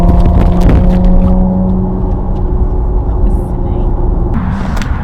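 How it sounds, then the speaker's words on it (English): A Porsche Macan GTS engine revs up with a droning hum, then the revs fall away quickly to a lower, rougher idle, heard from close by. "you hear that? The revs drop instantly."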